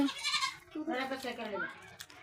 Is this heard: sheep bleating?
yes